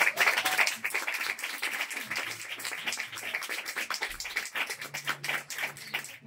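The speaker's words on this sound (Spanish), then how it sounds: "Así que un aplauso para Juanjo Camacho, por favor." Live audience applause at a Huelva tribute gathering for Gata Cattana, crowd clapping honoring a performer, steady and fairly close for about six seconds with faint voices mixed in.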